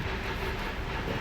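Train rolling past in a comedy skit, a steady broadband rumble with a continuous hiss and faint rail clatter, loud and close for the whole short stretch with no talk over it.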